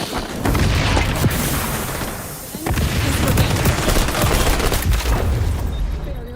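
A frag grenade detonating in the online shooter XDefiant, a loud, dense blast folded into continuous gunfire and booming impacts that fill the whole stretch with hardly a break.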